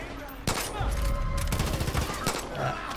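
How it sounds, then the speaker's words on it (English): Gunfire in the video game Far Cry 5, sharp loud shots starting abruptly with a rapid cluster of bursts and echoing reports, with a voice speaking over the shooting. "There's a guy right there that I'm gonna shoot in the head."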